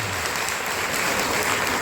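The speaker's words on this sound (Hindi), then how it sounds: "जोर ताली बजाओ" A crowd claps loudly and steadily at a political rally, a dense, continuous wash of applause that fills the whole moment without pause.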